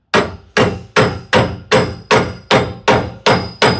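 Hammer blows beating a telescoping tube into place on a through-frame slide rack arm gear pack, held with channel locks or vice grips: ten evenly spaced, loud metallic whacks in a steady rhythm, each ringing briefly before the next.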